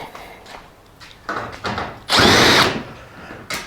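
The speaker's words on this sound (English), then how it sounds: "Cordless drill is definitely the way to go." A cordless drill whirs in short bursts, backing bolts out of the top bars of a metal IBC tote cage, ending in one longer, louder spin with clanks of metal between bursts and no talking.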